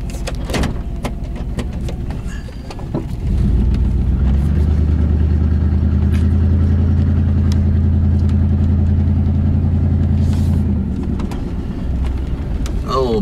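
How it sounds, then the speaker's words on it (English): A pickup truck on a mild overcast day in South Kansas City is put into gear and driven off, its engine rising to a loud, steady low rumble after a few clicks and knocks, then easing back near the end. "You trying to drive my truck, Sassy?"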